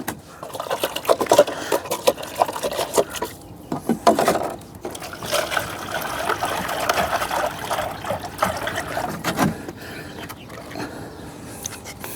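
Water poured into a pet's drinking container, a splashing, trickling pour that rises and falls in uneven gushes, with voices talking over it throughout.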